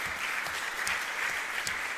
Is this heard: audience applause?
yes